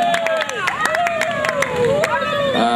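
Audience applause for Dani at a music carnival, clapping and crowd noise running under loud, pitch-sliding tones and chatter, with the clapping partly masked by the sustained sounds layered over it.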